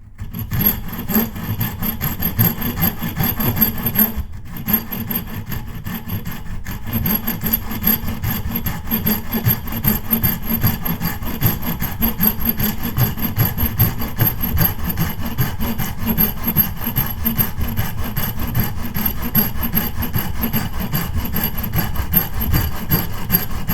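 A hand saw cuts steadily through wood for a workbench leg tenon, with a long run of even, rasping back-and-forth strokes, close and loud, pausing briefly once before carrying on; no one speaks.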